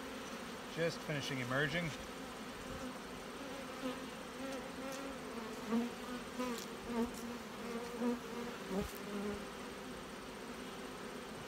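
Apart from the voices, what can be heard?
honey bees buzzing on brood frame from hive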